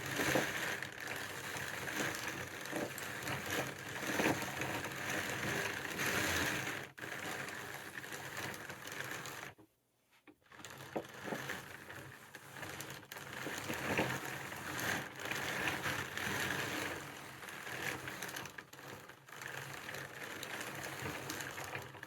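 A hand-cranked drum carder blends wool and silk fiber fed through a second time, a steady brushing, whirring rasp that continues close and unbroken, broken by one short pause partway through.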